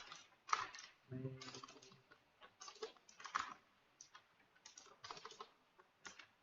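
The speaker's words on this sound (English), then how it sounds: "I've got a new keyboard, so my typing has really become quite shoddy" Rapid typing on a new computer keyboard, irregular bursts of close, crisp key clicks with short pauses, and a brief low murmur of a voice near the second mark.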